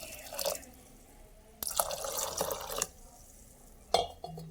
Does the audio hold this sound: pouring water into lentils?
yes